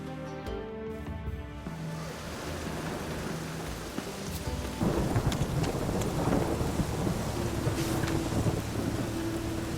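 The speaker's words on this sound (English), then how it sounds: "A storm, damn it." Thunderstorm in The Witcher 3: a long rolling thunder rumble over steady rain, with game music notes fading early and the downpour growing louder and denser.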